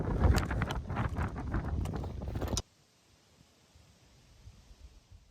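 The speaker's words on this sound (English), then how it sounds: "it was very windy that day" Strong wind on a golf course buffets the microphone with a loud, rushing roar for a couple of seconds, then cuts off abruptly to near quiet.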